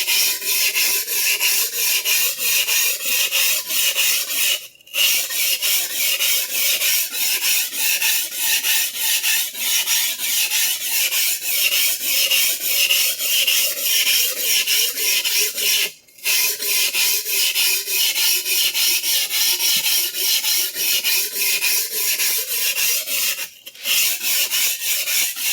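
A vintage Clyde Cutlery chef knife is stroked steadily across a whetstone, a near, continuous wet rasping that runs in long even passes, broken by three brief pauses.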